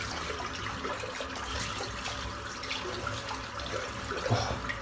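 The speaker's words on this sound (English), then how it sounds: "Can rinse the soap out." Water runs steadily from a tap to rinse shaving soap, a continuous splashing hiss at moderate distance with no speech.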